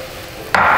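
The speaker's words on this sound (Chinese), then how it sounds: "再加点水，加点冷水" Cold water poured into a pot of boiling cabbage and pork dumplings: a sudden broad hissing rush that starts abruptly partway through and continues steadily and fairly loud to the end, with no talk.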